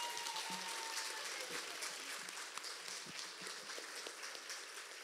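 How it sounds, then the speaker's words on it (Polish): Faint, steady clapping from a distant hall audience at a children's song festival gala in Łasin, continuous with a few sharper claps. "Gorące brawa!"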